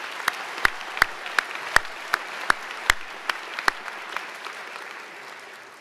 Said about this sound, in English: Again, a big round of applause.